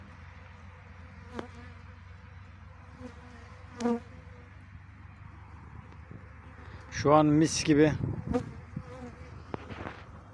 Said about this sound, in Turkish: Evet şu an arının sesini de duyuyor musunuz bilmiyorum. Arılar etrafımda dolaşıyor.